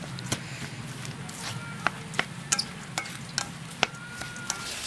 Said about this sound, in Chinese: 先加料去拌起来